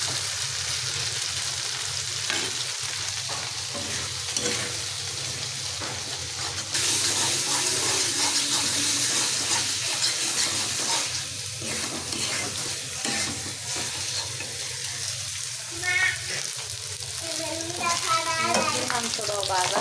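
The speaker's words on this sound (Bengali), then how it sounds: "মাংসটাও ভাজা হচ্ছে।" Chicken meat frying in a pan and being stirred: a loud, steady sizzle throughout with repeated scraping strokes of the spoon, some running water in the background and a few faint voices at times.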